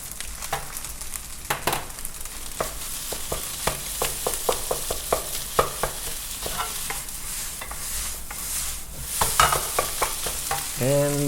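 Butter sizzles in a pan while lobster pineapple fried rice is cooked, with a continuous frying hiss broken by frequent sharp scrapes and clacks of stirring, close up, and no voices.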